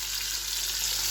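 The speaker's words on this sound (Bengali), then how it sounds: "এখানে আমি মাছগুলো ভেজে নিচ্ছি" Fish frying in a pan for a spicy fish curry, a steady close hiss of oil sizzling without a break and no voices.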